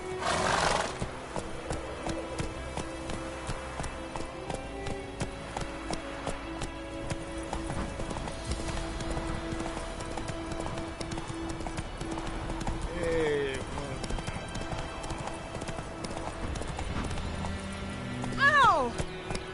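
Roach, a horse in the video game Witcher 3, gallops with steady, rapid hoofbeats over game music, neighing once midway and again loudly near the end.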